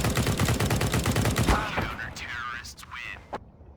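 Rapid gunfire from Counter-Strike: Global Offensive, a dense automatic burst through the first half and a half seconds, then fading into game effects, with one sharp shot near the end, loud and close.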